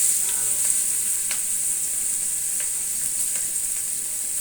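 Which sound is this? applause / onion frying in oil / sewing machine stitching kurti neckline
onion frying in oil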